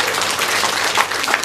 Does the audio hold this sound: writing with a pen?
no